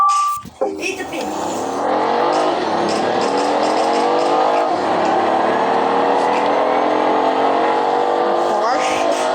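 A Porsche engine revs in a loud, sustained drone that climbs and dips in pitch, holding a strong buzzing tone close by for several seconds.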